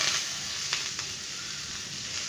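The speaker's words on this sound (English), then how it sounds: "Now add a pav bhaji masala to it" Pav bhaji masala frying in hot butter or ghee gives a steady, close sizzle that holds at an even level from start to end, with a couple of faint clicks of a utensil partway through.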